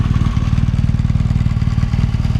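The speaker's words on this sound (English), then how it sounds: "And it sounds pretty good too with the stock exhaust" A 2014 BMW R1200GS Adventure motorcycle runs through its stock exhaust with a loud, close, steady low throb and rapid even pulsing, heard alone.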